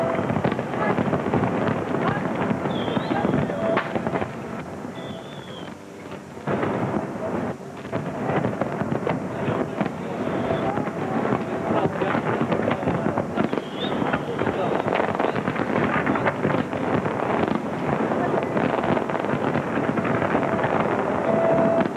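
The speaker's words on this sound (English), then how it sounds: "Getting to that stage in the day where it's hard to tell whose fireworks are whose." New Year fireworks in Lisbon, Portugal, booming and crackling continuously at a distance, blended with wind buffeting the microphone and crowd noise, and a few faint whistling rockets rising through the dense wash of sound.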